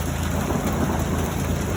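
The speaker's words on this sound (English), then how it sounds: "It's not rain, it's hail!" Dense, steady hail pelting parked cars in a garage lot, including a Porsche and classic Buicks, a loud continuous hiss-like roar of impacts with no voices.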